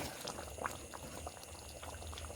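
Chicken curry with potatoes bubbling steadily in a pot, a continuous close simmer with small popping bursts and no voices.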